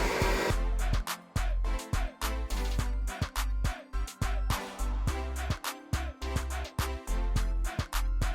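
An electric mixer beats Jamaican-style sweet potato pudding batter after all-purpose flour is added, making a loud, steady motor whir broken by repeated brief dips as the beaters shift through the batter. No one speaks.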